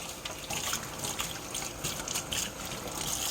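Corn rinsed under a kitchen sink tap gives a faint, steady trickle of running water with soft splashing irregularities, no speech.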